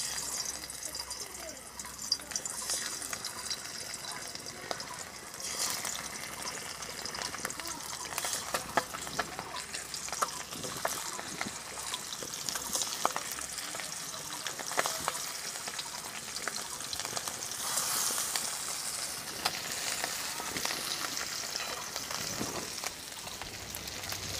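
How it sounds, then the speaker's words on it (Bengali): Tangra fish fry in hot oil, a continuous crackling sizzle that stays fairly loud and steady throughout, with occasional sharper pops. "তেল গরম হয়ে গেছে, আমি মাছটা দিয়ে দেবো।"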